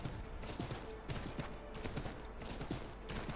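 Hooves of a galloping horse being ridden in the video game Assassin's Creed 3, a steady fast clip-clop rhythm of thudding hoofbeats running continuously, close and moderately loud with no talk.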